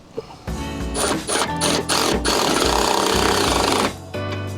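A power tool working on a Transit van rebuild, running loud and close in several rattling, hammering bursts with short pauses between them, then cutting off near the end.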